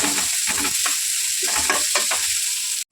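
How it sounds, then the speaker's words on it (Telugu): Carrots frying together with onions in a hot pan for rava kichdi, a steady close sizzle with repeated rhythmic stirring scrapes, cutting off abruptly at the end. "క్యారెట్ కూడా బాగా ఫ్రై అవుతుంది కదా"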